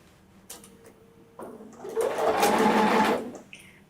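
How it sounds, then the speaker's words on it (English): A sewing machine stitches a quarter-inch seam, its motor hum and needle clatter swelling into a steady whir for about a second and a half before winding down. "I'm just going to start at the edge and stitch my 1/4 inch all the way down"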